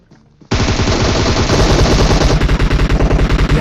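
Sustained, loud video-game machine gun fire from an M249 light machine gun, erupting abruptly after a brief quiet moment and continuing as a dense, rapid burst of shots with no talking.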